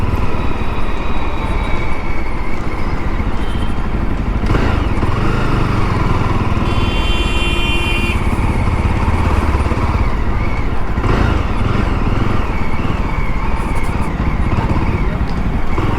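A Jawa Bobber 42 motorcycle engine drones loud and unbroken while being ridden, with a noise from the gears, a steady roar over rushing wind.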